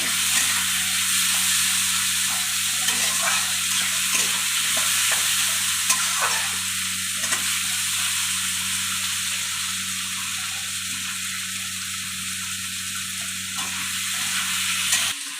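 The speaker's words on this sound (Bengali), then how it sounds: "আলুগুলো একটু ভালো করে ভেজে নেবো" Potato pieces sizzle in a pan while being stirred, a constant close frying hiss with scraping stirs running throughout, no voices.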